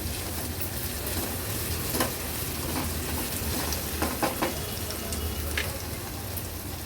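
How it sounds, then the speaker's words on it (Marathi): Ginger-garlic paste sautéing with onions in a pan over a medium flame, a dense continuous sizzle with occasional soft stirring taps, close and steady. "आलं लसूण क्रश देखील व्यवस्थित कांद्यासोबत परतून घ्यायचे"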